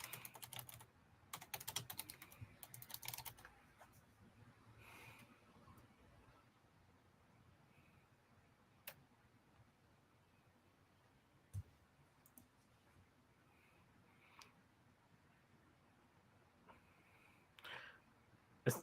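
Quiet typing on a computer keyboard, an opening burst of rapid key clicks followed by scattered single taps and a short flurry near the end.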